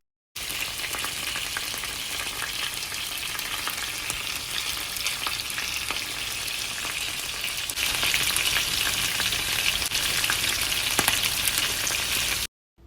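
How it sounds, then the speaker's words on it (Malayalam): Chicken frying in a pan during holiday cooking, a steady close hiss and sizzle of hot oil that holds for about twelve seconds and grows slightly louder partway through, with no talk. "ഇതിൻ്റെ ഇടയിൽ തന്നെ ഞാനൊന്ന് ചിക്കൻ ഒന്ന് ഫ്രൈ ആക്കിയിട്ടും കൂടി എടുക്കുന്നുണ്ട്"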